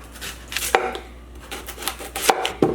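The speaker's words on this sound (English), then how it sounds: "We're gonna chop it up and then we're gonna measure it." Knife chopping half an onion on a cutting board: several sharp, close knocks spaced irregularly, with a few quieter taps between them in a quiet kitchen.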